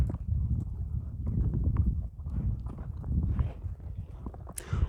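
A nine-year-old buzkashi horse walking on hard ground, with irregular, close hoof clops and thuds and rustling movement throughout, and a brief brighter scrape near the end.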